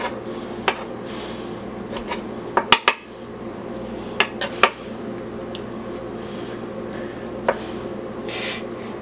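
A ceramic knife scrapes chunky bits off a ginger root with soft rasping strokes, broken by a few sharp clicks and clinks against a hard surface, close and fairly quiet.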